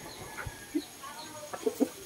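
Chickens clucking inside a backyard chicken coop, a few scattered soft clucks and short calls over a quiet, faintly noisy background, with no talk.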